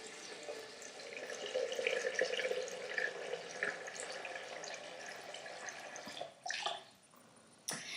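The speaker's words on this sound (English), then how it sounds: "So 4 cups of water in my blender." Four cups of water pour steadily into a blender jar for homemade almond milk, a close, soft continuous splashing rush that thins toward the end, followed by a couple of brief knocks.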